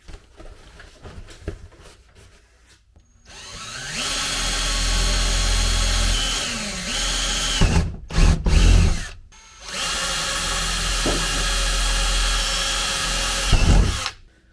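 A power drill bores into a panel on a RZR Pro XP side-by-side, whining steadily in two long runs with short pauses, loud and close, with a faint shuffle of handling before it starts.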